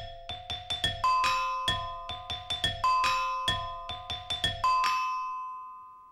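Bright ringing tones from a prehistoric stone lithophone struck in a quick repeating melodic pattern, each hit chiming and decaying, the phrase cycling several times before fading out.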